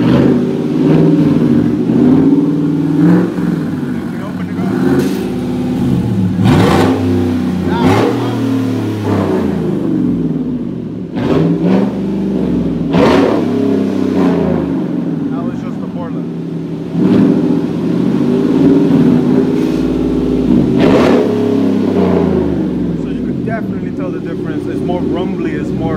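Chevrolet Silverado with a Borla exhaust and an open 2.5-inch electric cutout, revved repeatedly in loud, deep rumbling bursts that rise and fall over a steady idle, with a voice talking over it.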